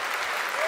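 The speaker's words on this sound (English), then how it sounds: "what an unexpected round of applause" A sudden round of audience applause at the NG-DE Berlin 2025 developer conference, a short, fairly soft burst of massed clapping heard from a distance.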